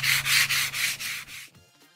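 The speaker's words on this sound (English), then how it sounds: "A little 220 grit there." Rhythmic back-and-forth hand sanding with 220 grit sandpaper on a block of wood, about six close, raspy strokes, then stopping abruptly.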